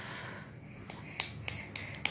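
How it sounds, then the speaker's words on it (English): A young child at a tuition class gives about five light, sharp claps spaced roughly a quarter second apart, close and fairly quiet against a still room. "Clap for yourself."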